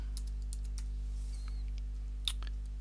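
Quick, light clicking of computer keyboard keys as a search is typed, faint and close over a steady low background hum.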